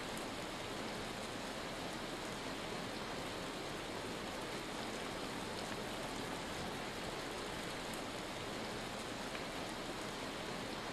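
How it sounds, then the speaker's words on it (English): Hail and storm in the Vintage Story video game: a dense, steady hiss of pelting ice and rain that stays loud and unbroken throughout, with no voices. "Gentle breeze with lightning and hail still coming down."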